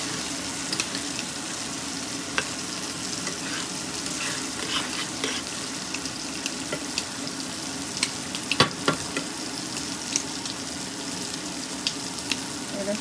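Spice paste (masala) fries in a pan for shrimp malaicurry, a steady close sizzle with scattered small pops and occasional stirring scrapes running throughout.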